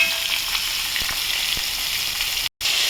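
Ridge gourd pieces fry steadily in a hot pan, a continuous bright sizzle with a few soft clicks, and a sudden brief dropout near the end.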